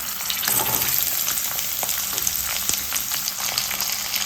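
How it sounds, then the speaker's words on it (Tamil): Onions and slit green chillies sautéing in oil in a pan for a pomfret fish curry, a steady close crackling sizzle with occasional stirring scrapes and pops throughout. "இப்போ வெங்காயத்தை நல்லா வதக்கிப்போம்"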